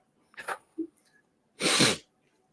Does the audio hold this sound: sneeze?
yes